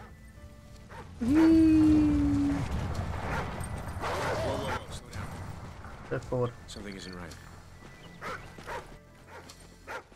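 Riley the dog whimpers in Call of Duty: Ghosts, a drawn-out high whine rising and then holding steady, followed by softer snuffling and game noise while people talk over it.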